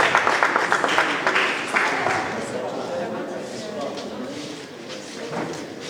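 An outdoor audience claps for Isiolo County at a ribbon-cutting ceremony, a broad spread of overlapping hand claps that starts strong and gradually thins out over several seconds, with some voices mixed in.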